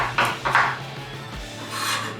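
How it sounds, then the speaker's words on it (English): Fresh garlic is crushed and roughly chopped with a knife on a board, a few close scraping, rasping strokes followed by a softer rub, with no talking. "So I'm just gonna crush this and give it a rough chop."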